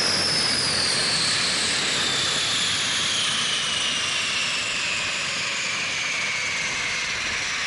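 Historic Convair 580 aircraft engines spool down during shutdown, a loud, close, steady roar with a high whine that slowly falls in pitch throughout.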